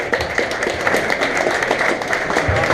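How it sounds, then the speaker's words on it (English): An audience at a tech talk applauds, a dense steady wash of many hands clapping, moderately loud and continuous, heard alone. "Round of applause."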